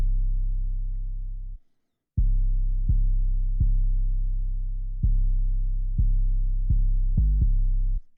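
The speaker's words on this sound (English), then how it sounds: "you see this pattern is kind of basic. It sounds like this." Basic 808 bass pattern made in FL Studio for a beat: deep sustained booming bass notes with sharp attacks in a sparse rhythm, one short gap, then faster repeated hits near the end, played alone.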